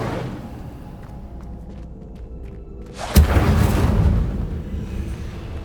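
Incendio fire spell cast in Hogwarts Legacy: a sudden bursting whoosh of flame that flares sharply, then a broad roaring rush that lingers and fades over a low game ambience, with no talking.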